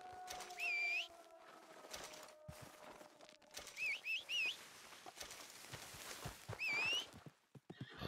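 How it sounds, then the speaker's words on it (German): A startled horse in Red Dead Redemption 2 lets out several loud, shrill neighs in separate bursts, with hoof clops and game ambience between them. "Pferd komplett verschreckt."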